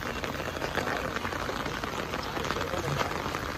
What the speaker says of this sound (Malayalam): ഫുള്ള് മഴയാണ്.